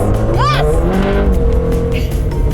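A Subaru WRX rally car's engine revs and its tires squeal briefly through a handbrake turn, loud and close, with voices talking over it.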